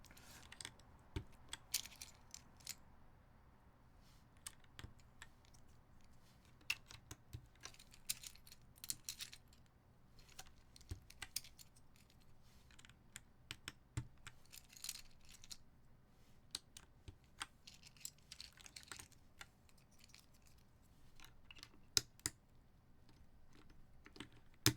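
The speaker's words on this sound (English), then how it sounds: "I was typing into something. I just pressed enter a bunch of times." Scattered clicks and taps of a computer keyboard being typed on, with a run of repeated key presses, faint and close against quiet room noise, no talking.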